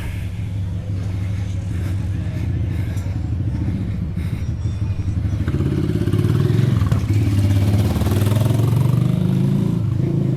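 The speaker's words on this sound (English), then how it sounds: "They were renting these little Honda moped things." Small Honda mopeds and motor vehicles buzz past on a street in Sayulita, a steady engine drone that grows louder toward the end, with clattering and some talking nearby.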